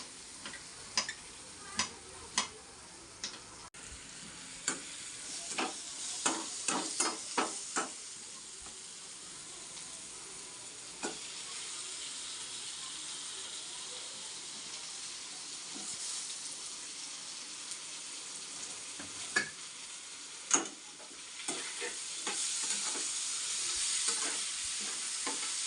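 Chopped tomatoes sizzle with browned onion in a pan for tomato chutney, a steady soft frying hiss broken by sharp ticking taps of a spoon stirring, irregular clusters of clicks over the continuous sizzle.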